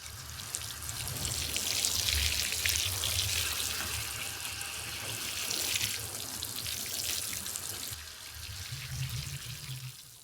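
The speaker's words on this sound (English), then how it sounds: "Use some running clean water and just make sure that it's clean" Freshly harvested homestead plants rinsed under clean running water, a steady, close hiss and splash of water pouring over leaves that continues without a break, with no talking.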